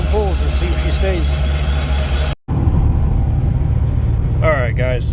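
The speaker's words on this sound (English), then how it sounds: "Go ahead and let her idle and we'll do some high RPM pulls and see if she stays." A car engine idles steadily after a belt tensioner replacement, loud and close, with a brief cut partway through and a few faint whines and chirps over the hum.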